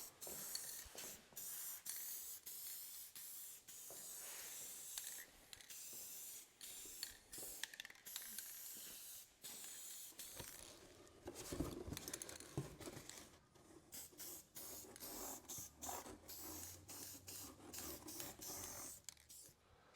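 Spray paint being shot onto a restored Kurt machinist vise: long, steady hissing bursts from the can, separated by brief pauses and faint handling noises, close up and with no voices.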